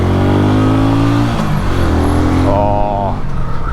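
A Honda CB250RS motorcycle engine revs and pulls out of a junction, a loud, close, rising drone with gear changes, while someone talks over it.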